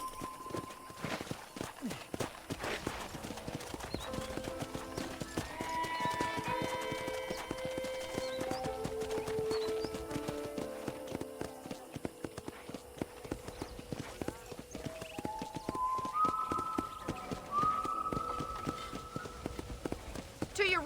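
Horse hooves clip-clop steadily at a walk in the Red Dead Redemption game on PS4, close and continuous under a game music score, with a brief whinny and someone talking nearby.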